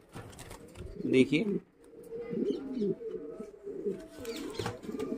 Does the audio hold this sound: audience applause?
no